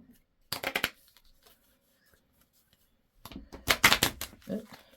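A deck of playing cards is riffle-shuffled at a table, with two quick bursts of flicking card rattle separated by a short quiet pause, close and fairly loud, and faint background sounds in between.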